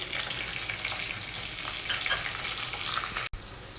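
Green chillies fry in hot tempering oil for a vegetable curry, a steady close sizzle with crackling hiss throughout and a brief break near the end.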